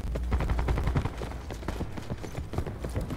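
Rapid gunfire from Call of Duty rattles off in quick bursts of sharp cracks, dense in the first second and then sparser and quieter, heard without any speech.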